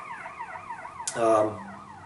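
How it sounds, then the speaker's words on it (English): A wailing siren sweeps up and down in the distance, briefly joined by a louder close honk or horn blast in the middle. "there's a siren going off."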